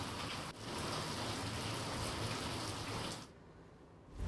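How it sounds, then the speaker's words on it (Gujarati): A dense, steady wash of heavy monsoon rain falling in Dabhoi, Gujarat, cuts off abruptly near the end. "ક્યાંક ધોધમાર તો ક્યાંક ધીમી ધારે વરસાદ જોવા મળ્યો છે"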